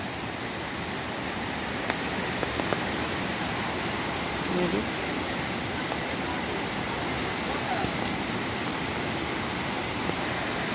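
The Phalguni river in full flood after heavy rain, a dense steady roar of rushing water filling the whole span, loud and unbroken, with a single spoken word over it.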